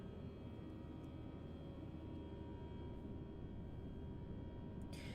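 FSLabs A320 airliner engines running in the Prepar3D flight simulator, a steady loud broadband roar with a constant tonal whine, continuous and unchanging, with a brief brighter hiss near the end.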